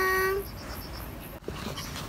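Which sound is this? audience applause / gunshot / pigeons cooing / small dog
small dog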